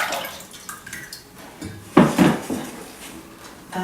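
Soaked seaweed in warm water poured into a cooking pot in a kitchen, a short close splash and clatter of liquid hitting the pot after quieter clinking and dripping.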